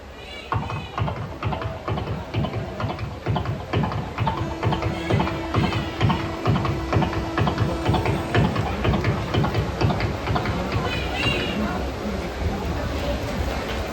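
A voice imitates a galloping horse's hooves, a rapid rhythmic series of clopping beats repeated steadily for several seconds, loud and close, sounding alone without any other speech.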